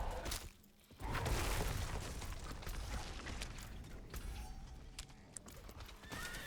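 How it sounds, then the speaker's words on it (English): A horse in the video game Diablo IV neighs loudly, and its hooves clatter in a quick, steady clip-clop. The sound is close and continuous, with no talk. "Why can't the horse just run over it?"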